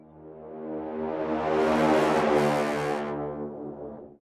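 An exported sound played backwards, a dense harmonic tone that swells gradually from quiet to a loud peak, then cuts off abruptly after about four seconds.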